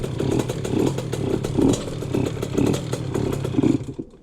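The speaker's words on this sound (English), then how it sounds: "Or if you have to constantly keep revving the throttle," A dirt bike engine with a dirty carburetor is revved repeatedly, close and loud, giving a rough, uneven series of throttle blips in a pulsing rhythm before cutting off at the end.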